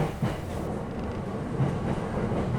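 A passenger train rolls along its rails on a long journey of two to three hours, a steady low rumble with faint clatter and no speech.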